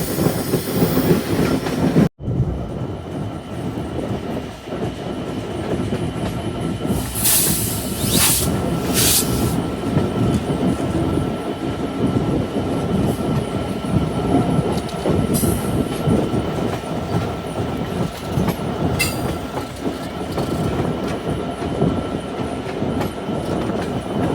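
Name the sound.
Intercity Ruposhi Bangla Express train entering station platform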